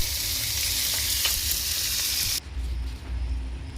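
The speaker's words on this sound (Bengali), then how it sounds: "মাছটা কেটে ধুয়ে নিয়ে এসে লবণ হলদি মাখিয়ে মাছটা ভাজছি" Pieces of fish rubbed with salt and turmeric frying in an oiled pan, a loud steady sizzle that drops somewhat softer partway through, with no voices.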